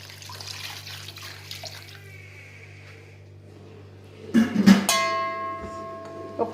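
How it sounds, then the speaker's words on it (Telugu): Half a litre of water pours into a pot of mutton curry, a quiet lead-in followed by a short loud splashing gush with ringing tones near the end. "1/2 కేజీ మటన్లోకి 1/2 లీటర్ వాటర్ యాడ్ చేస్తున్నాను"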